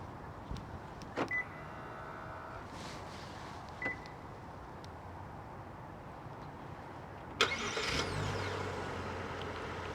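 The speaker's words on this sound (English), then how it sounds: "I remote started with the fob" A Genesis GV70 SUV starts remotely from its key fob: a few faint clicks and chirps, then a brief whir and the engine catching into a low, steady idle near the end.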